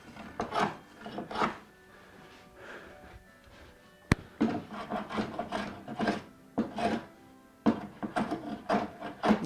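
A hand plane takes repeated shaving strokes across figured wood during the build of a 1964 ES-335-style guitar, a series of rhythmic rasping swishes with short pauses between, close and fairly quiet.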